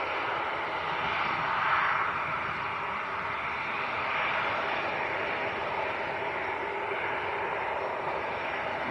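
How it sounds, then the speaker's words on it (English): A Jet2 airliner arriving from Nice on final approach to Leeds Bradford Airport produces a steady, broad distant roar that swells slightly and stays continuous throughout. "Jet2 from Nice on finals"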